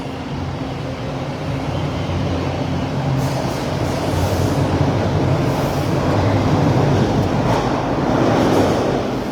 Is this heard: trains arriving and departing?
yes